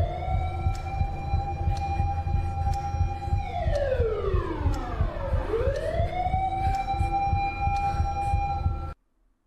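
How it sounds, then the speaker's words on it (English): Police sirens wail through a horror video game scene, a loud continuous rising and falling tone with a sweeping pitch drop and rise in the middle, like a vehicle passing, over a steady rumbling background. "Do you hear the sirens?"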